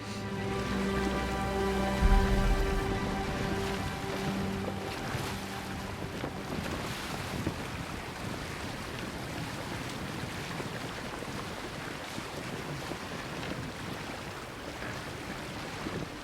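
A sailboat glides along the Nile in an Egyptian open-world game, with steady wind and water wash around the hull; a low tonal drone fades early on, leaving an even rush of wind and waves.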